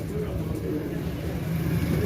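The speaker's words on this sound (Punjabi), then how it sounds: "ਇਹ ਪ੍ਰਵਾਸੀ ਕਬੂਤਰ ਹਨ, ਬਹੁਤ ਅੱਛੇ ਪ੍ਰਵਾਸੀ ਕਬੂਤਰ ਹਨ।" Pigeons cooing at the Data Darbar pigeon market in Lahore, a steady low burble of many birds close by, with the crowd murmuring and people talking throughout.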